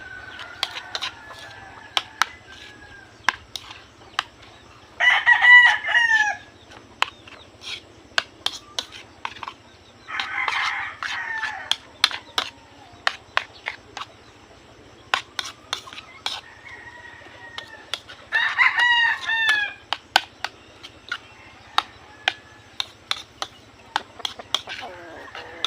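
Backyard chickens cluck and squawk over a feed of mixed vegetables, with a few bursts of excited calling standing out among steady sharp pecking taps and scattered clicks, close by.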